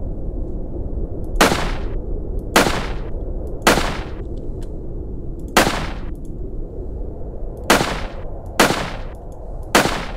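Single gunshots fired in the SCP 354 video game, about eight sharp loud reports spaced roughly a second apart over a constant low rumbling background, with no talking.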